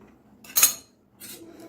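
A spoon mixes mango ice cream mixture in a bowl, producing two short bursts of close metallic scraping and clinking separated by a quiet pause.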